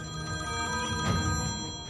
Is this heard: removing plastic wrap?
no